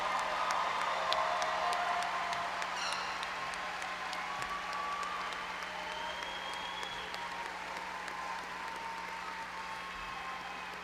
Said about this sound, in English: give a round of applause for these students